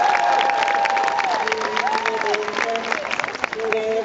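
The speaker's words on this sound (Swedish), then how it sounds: "Ge dem en riktigt varm applåd" Warm applause and cheering from a crowd at an outdoor concert at Liseberg amusement park, steady clapping throughout with musical tones and voices sounding over it.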